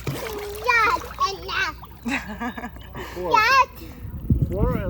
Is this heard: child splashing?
yes